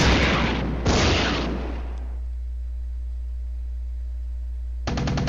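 80mm mortar fire in a war strategy video game, two loud booming bursts near the start, then a long fading rumble, and another burst at the very end.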